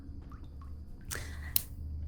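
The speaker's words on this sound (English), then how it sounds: "that dripping sound managed to go perfectly with Naomi's clap." A close, wet drip and squelch effect from a horror tabletop game session: a few faint liquid ticks, then one brief, sharp splattering burst with a small wet snap, quiet and isolated.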